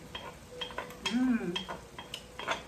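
Chorizo goes back into a hot pan and gets stirred, giving a low sizzle under repeated spoon scrapes and clinks against the pan, with a brief murmur of voice in the middle.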